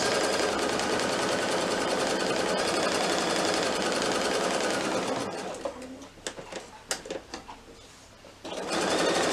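A sewing machine runs steadily, basting batik fabric for a small wallet, its dense continuous whir lasting about five seconds, then stopping for a stretch of scattered clicks and handling noises before the motor starts up again.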